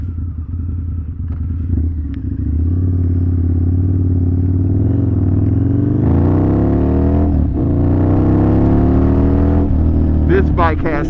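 A Harley-Davidson V-Rod with a Memphis Shades Bullet Fairing rides along, its engine droning loudly and steadily, rising and falling as the rider shifts through gears, with wind noise throughout and a voice talking over it.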